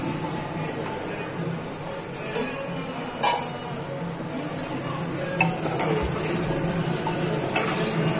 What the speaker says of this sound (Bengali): এই দেখো চিকেন মটনটা কষে কষে একদম তেল উঠে গেছে